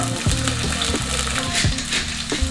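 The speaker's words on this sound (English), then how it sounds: "Essentially, I'm searing them." Zucchini sears in a hot pan, giving a loud, continuous close-up sizzle broken by occasional sharp pops and ticks.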